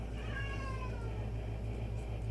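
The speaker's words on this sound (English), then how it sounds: "my cat is upset because I brought home my mom's dogs after my mother passed away" An upset house cat, unsettled by newly arrived dogs in the home, gives a couple of drawn-out wavering meows over a low steady background hum, fairly faint and close.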